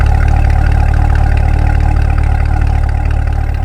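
A 2020 Chevrolet Corvette Stingray Z51 engine rumbling through squared-off quad-tip exhausts, a loud, close, steady idle with a deep, even throb and no voices.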